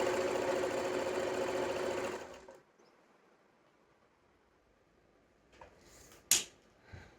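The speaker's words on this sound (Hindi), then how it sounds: "अब हम बैक पार्ट को सिलेंगे" A sewing machine stitches the back piece of a girl's co-ord set for about two seconds with a close, steady whirring drone, then stops, leaving near quiet broken by a few faint handling clicks and one sharp tap.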